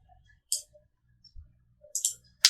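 Several sharp computer mouse clicks from someone working in CAD software, spaced irregularly with quiet gaps between them, close and fairly soft, with one louder click near the end.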